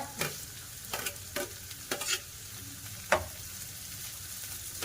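Curry leaves and carrot hitting hot oil in a frying pan, a low steady sizzle broken by several sharp stirring scrapes and clatters spaced through the stretch, with no one talking.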